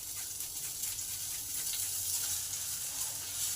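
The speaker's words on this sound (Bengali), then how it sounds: "হিং আর আদাটাকে একটু ভেজে নেবো।" Asafoetida and grated ginger sizzle in hot oil in a pan, a steady, soft hiss running evenly throughout with no voices.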